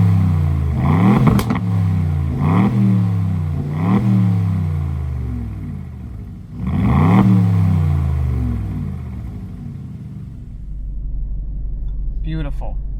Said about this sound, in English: let's start it up because it sounds amazing.